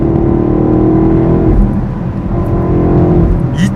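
BMW X7 M50i with its V8 in sport mode, a steady low engine drone mixed with road and wind noise, heard from inside the moving vehicle at a constant level, with a slight dip midway and no speech.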